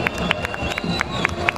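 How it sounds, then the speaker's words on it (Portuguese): Crowd clapping and cheering for São Paulo state military police marching in a civic-military parade, a steady dense wash of applause with sharp individual claps standing out throughout the short stretch. "Vamos saudar com calorosas salvas de palmas estes guerreiros da Polícia Militar do Estado de São Paulo"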